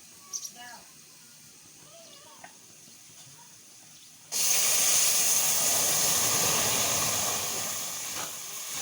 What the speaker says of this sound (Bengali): রসুন আর পেঁয়াজটা আমার ভাজা ভাজা হয়ে গেছে এবার আমি এর মধ্যে ডালটা দিয়ে দেবো